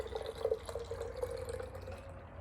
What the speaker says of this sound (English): I'm actually going to pour all the water from the jar into the bottle